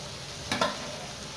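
Squid with petai simmering in red spice paste in a pan on a stovetop gives off a soft, steady sizzle, with a couple of brief stirring scrapes in the middle.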